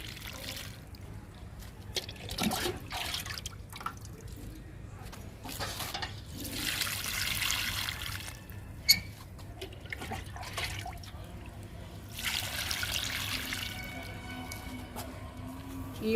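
Water is poured onto potted marigold plants in a few separate bursts, each a soft splashing and soaking gush, with quieter gaps and faint drips between them.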